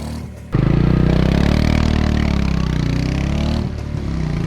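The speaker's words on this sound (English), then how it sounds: "we have caught the exhaust note of the motorcycle" A steady, throbbing exhaust note from a 2023 Royal Enfield 350cc motorcycle idles loudly and evenly, with a brief dip near the end before settling back.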